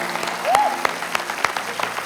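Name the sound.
church congregation applauding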